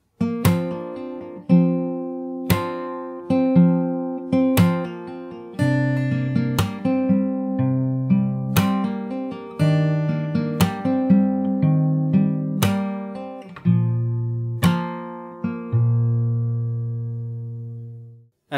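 Solo fingerstyle acoustic guitar plays the verse of a song: plucked bass notes and melody with chords, steady repeated attacks, close and alone, ending on a ringing low chord.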